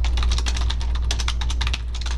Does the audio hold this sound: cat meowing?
no